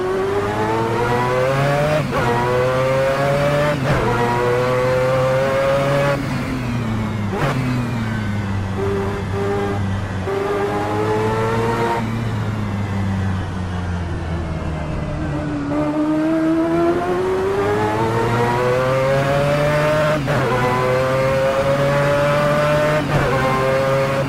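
A Mazda 787B race car screams around the track, its engine revving high through repeated upshifts and rising pulls, loud and close with sharp drops between gears.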